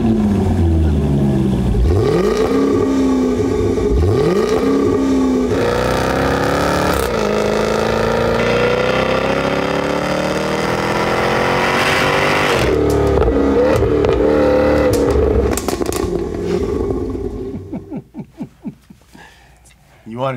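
A V8 car engine revs repeatedly, rising and falling in pitch with throaty swells, loud and close, before dropping away into quieter clicks at the end, with voices talking over parts of it.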